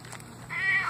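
A pet cat gives a single short meow near the end, close and clear over a quiet room.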